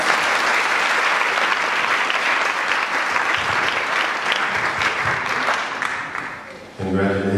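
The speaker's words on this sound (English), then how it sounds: "Give him a clap." Wedding guests clap in a full, steady round of applause that holds for several seconds and fades as a voice comes in at the end.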